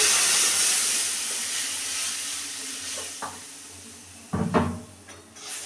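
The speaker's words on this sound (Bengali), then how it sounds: "তো এই মশলা কষানো হয়ে গেছে, এবার আমি জল দিয়ে দিচ্ছি।" Water poured into a pan of sizzling fried spice masala, a steady broadband hiss that fades somewhat, followed by a few sharp clatters of utensils near the end.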